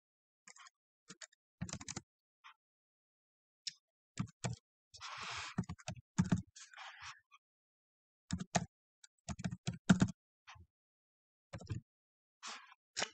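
Keys clicking on a computer keyboard, with sparse isolated taps and short bursts of typing at close range, including presses of the space bar, quiet and without any voice.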